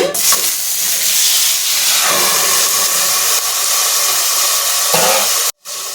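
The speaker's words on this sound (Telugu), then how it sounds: "ఇప్పుడు ఇందులో టమాటాలు వేసుకుందాం" Tomatoes, with tamarind, go into a hot pan for tomato chutney and set off a loud, steady hissing sizzle that continues until it briefly cuts out near the end.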